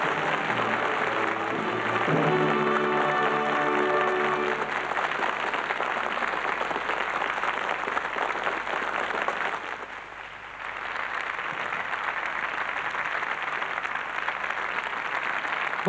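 Loud, sustained applause from a large audience at the Miss France 1994 pageant fills the hall, with musical tones ringing over it early on and a brief dip before the clapping swells back.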